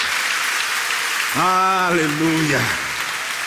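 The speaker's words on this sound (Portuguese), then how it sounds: "Quem crê nisso, dá uma salva de palmas ao Senhor." Church congregation clapping in praise during a sermon, a steady wash of applause with a sung, drawn-out exclamation from a voice rising over it midway.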